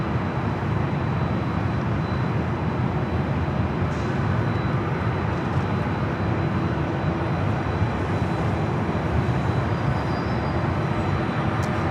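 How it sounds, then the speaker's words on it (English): Steady broadband roar of a Delta Airlines Boeing 767-300ER, a 27-year-old jet bound for JFK, at Los Angeles LAX, loud and continuous without any talk. "Delta Airlines flight 938 heading to JFK, and a 27-year-old 767 at 300 ER"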